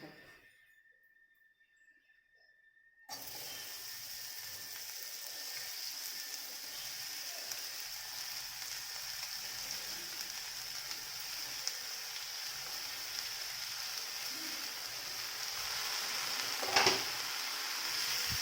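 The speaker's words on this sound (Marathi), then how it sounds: "त्याला जरासं चांगलं भाजून घ्यायचं" Vegetables and chilli spice fry in a pan with a steady, soft sizzle that starts abruptly after a few seconds of near silence and continues evenly, swelling slightly near the end.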